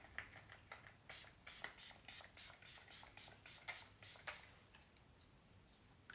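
A series of quick, soft misting sprays, about a dozen short pumps in a steady rhythm, close and fairly quiet, then stillness.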